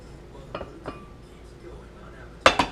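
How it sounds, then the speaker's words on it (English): Utensils clink and tap against a bowl as pepper steak is spooned over rice, with a few soft knocks followed by a quick burst of bright metallic clinks at close range. "Then we'll put the steak on top of that."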